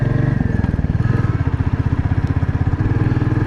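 Motorcycle engine pulling uphill in low gear on a rainy, foggy mountain road through tea gardens, a steady loud throbbing drone with rhythmic low pulses, close and continuous without talk.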